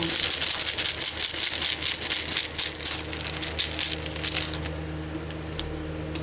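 Small Hebrew rune tiles rattle and clatter together in a bag as one is drawn, a dense run of close, bright clicking that eases off toward the end.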